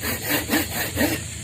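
Rhythmic rasping strokes of a saw cutting through wood, about three quick back-and-forth passes in a row, close and fairly loud.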